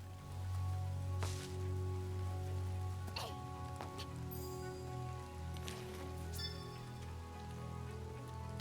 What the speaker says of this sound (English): looking out from the window as the rain comes down